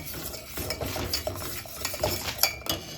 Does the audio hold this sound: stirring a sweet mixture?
yes